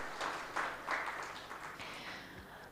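A conference audience applauding a telecommunications panelist, a steady wash of clapping at moderate distance with a few louder swells, sustained throughout.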